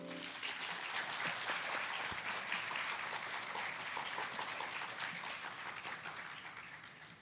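An audience at a valediction event applauds after an art showcase, dense, sustained clapping filling the room evenly and tapering off slightly at the close, with no talking over it.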